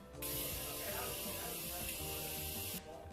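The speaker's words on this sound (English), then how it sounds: "So we're gonna use this Morphe Katia Setting Mist." Morphe Katia setting mist sprayed onto a made-up face in one long, steady hissing burst of about two and a half seconds, close and loud, with a low murmur of voice beneath it.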